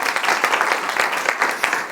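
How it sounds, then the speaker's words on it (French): An audience claps in a steady burst of applause, many hands overlapping at a fairly even level throughout. "Merci beaucoup, Tikaï, on l'applaudit"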